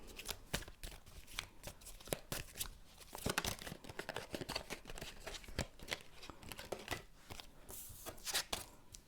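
Tarot cards being shuffled with quick riffling and soft slapping bursts, close and crisp, repeating steadily throughout without any voices.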